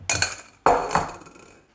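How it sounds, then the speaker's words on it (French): Butter being mixed into financier batter for mini pistachio-raspberry financiers, heard as two close bursts of metallic clinking and scraping of a utensil against a bowl, each fading quickly. "Et je finis de mélanger le beurre au reste des ingrédients"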